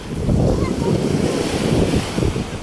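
Waves wash in and out at a beach by a camping and picnic area, loud and close, the surf rumble mixed with heavy wind buffeting the microphone.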